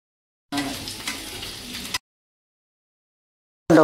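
Ingredients for a fresh coconut and raw mango chutney frying in a pan, a steady sizzle running about a second and a half before cutting off, then resuming briefly at the end.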